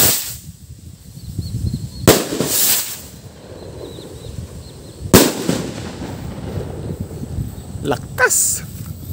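Homemade firecrackers with silver sparkler fuses go off outdoors: two sharp, loud bangs a few seconds apart, then fainter pops near the end, with background noise between blasts.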